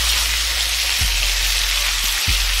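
Chopped tomatoes sizzle loudly in a hot pan with ginger garlic paste, a steady close frying hiss with a couple of low thumps, no talking.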